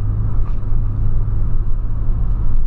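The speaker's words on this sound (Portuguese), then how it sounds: "Tem que passar esse caminhão, cara." A heavy truck rumbles past nearby, a loud, steady low engine drone filling the moment without any speech.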